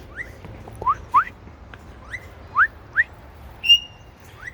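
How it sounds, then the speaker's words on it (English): A pet bird whistles in an outdoor aviary, giving short rising whistled notes in a loose, irregular series with a final steadier tone, fairly close against a quiet background. "You hear Gilly over whistling."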